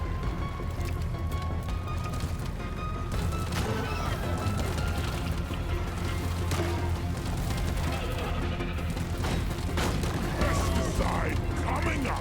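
Exploder enemies bursting amid dense Deep Rock Galactic combat, with booms and crashes layered over constant mechanical clatter and gunfire, a voice talking through the din.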